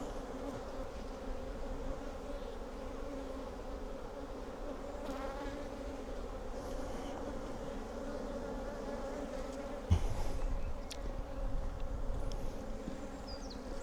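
Agitated honey bees in a massive hive full of honey give a dense, unbroken buzz close by, with a sharp knock partway through and a slight swell in intensity afterward, no one speaking.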